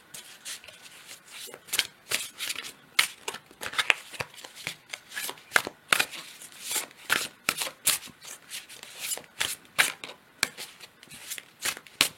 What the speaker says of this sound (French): Je vais tirer une autre carte de l'oracle de la lune.